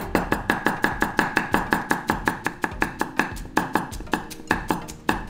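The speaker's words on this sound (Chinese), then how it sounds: "芒光、沙葛 是要切碎， 也是要切碎， 全部要切碎。" A kitchen cleaver finely chops yam bean on a board in a rapid, steady run of close, sharp knocks lasting several seconds, with no voices.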